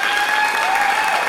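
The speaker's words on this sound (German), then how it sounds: "nochmal einen rasenden Applaus für den Gondelfahrer" Brief burst of dense, loud audience applause for a gondolier act at a talent show, a continuous wash of clapping that lasts only a moment.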